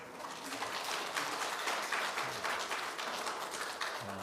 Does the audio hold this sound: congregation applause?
yes